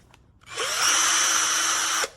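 A VIWKO 20V cordless drill spins up on its high speed setting, a steady loud whine rising quickly then holding for about a second and a half before cutting off abruptly.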